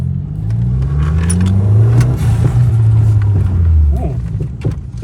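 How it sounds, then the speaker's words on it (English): Turbocharged BMW E36 engine pulling hard under acceleration, heard from inside the car as a loud rising drone with gear changes, interior rattles and a jangle of keys. "I could feel the turbo pushing"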